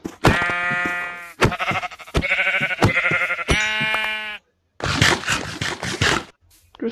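Sheep in the Minecraft video game bleat loudly and repeatedly, with several quavering baas in close succession, each one clear and near with short gaps between them.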